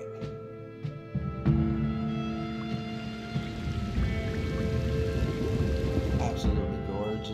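Steady night rain in the video game Red Dead Redemption 2 hisses and patters across surfaces, a continuous wash of drops with a few louder taps early on, fairly close and unbroken throughout.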